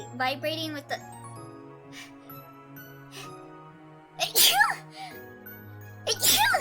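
A single sudden sneeze bursts out between stretches of game music and speech, loud and close, followed by more voiced sound.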